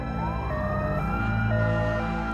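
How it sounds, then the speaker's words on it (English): Emergency vehicle sirens wail at the scene of a department store collapse, several overlapping tones rising and holding steady in a loud, continuous chorus with no talk. "emergency crews began arriving, amidst a chorus of sirens and shouts"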